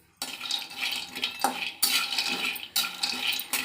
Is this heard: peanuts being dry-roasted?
yes